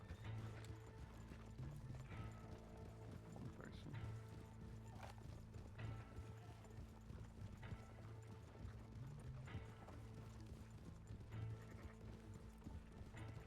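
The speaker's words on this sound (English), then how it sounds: "A lot of horses up here." Horse hooves clip-clop steadily through a roleplay video game scene, several horses moving nearby in a continuous layered rhythm over a low game ambience, with an occasional whinny and no talking.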